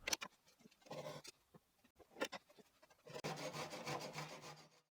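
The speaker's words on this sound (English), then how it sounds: "A second round of sanding is done with 100 grit sandpaper to smooth the entire surface." Steady rasping of sandpaper rubbing across wood, in short back-and-forth strokes and then a longer continuous scrub, close and alone.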